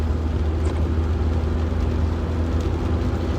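A manual-transmission car driving, heard as a steady, loud low-pitched engine and road rumble that continues evenly throughout, with no voices.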